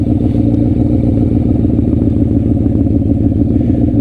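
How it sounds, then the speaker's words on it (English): A motorcycle rolling slowly in first gear with the clutch fully out and a little throttle, its engine giving a steady, close, loud mid-pitched chug with a fine mechanical clatter throughout and no voices. "I'm just giving it a little bit of gas to keep rolling here."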